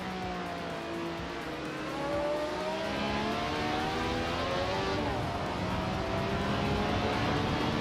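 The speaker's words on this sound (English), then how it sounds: "Skexis Beaupré is driving a Porsche 936 from 1977." A 1977 Porsche 936 race car engine in a racing video game drones steadily with shifting harmonic pitch, rising and falling through gear changes, loud and continuous with no talk.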